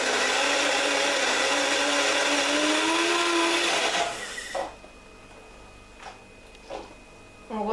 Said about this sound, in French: Donc c'est parti, on va mixer.